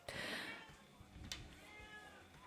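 A cat gives a loud, drawn-out meow up close, followed by a shorter, quieter meow, with faint room noise between.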